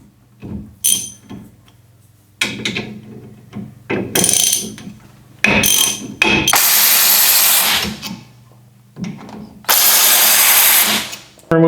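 A power tool, likely an impact driver or drill, removes the T30 screw holding a rear brake disc on a Chevrolet Colorado / GMC Canyon pickup, running in several loud, close bursts of whirring and rattling separated by short pauses.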